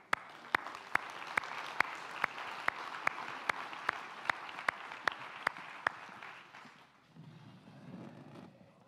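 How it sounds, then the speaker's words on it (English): An audience applauds as panelists return to the stage for an innovation panel, with steady crowd clapping and a sharp rhythmic unison clap accenting every half second, fading out around seven seconds into quieter room noise. "let's bring them all back out here with a round of applause"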